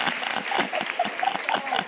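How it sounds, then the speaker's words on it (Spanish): An audience at an education event in Navarra claps steadily, a dense close round of applause with scattered chuckles and faint voices underneath. "Un aplauso para él, por favor."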